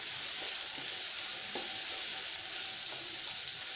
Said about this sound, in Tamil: இது எல்லாத்தையும் சேர்த்துட்டு நல்லா வதக்கலாம்.